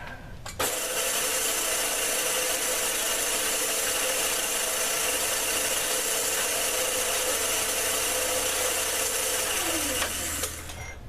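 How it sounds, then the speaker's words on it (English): A countersink tool cutting chamfers into drilled holes in metal gives a steady, continuous grinding whir that holds unchanged for about ten seconds, close and fairly loud, with no talk over it. "I want to countersink those a little bit"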